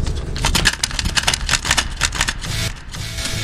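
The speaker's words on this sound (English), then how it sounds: "Does the cassette mechanism make a terrible sound like this when you open it?" Harsh, busy mechanical clattering from a cassette tape mechanism as it ejects, dense and close with rapid rattling bursts that continue for a few seconds, with no voices over it.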